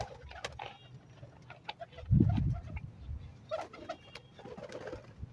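Pigeons coo softly nearby, with one deeper, louder coo in the middle amid light rustling and scattered faint sounds.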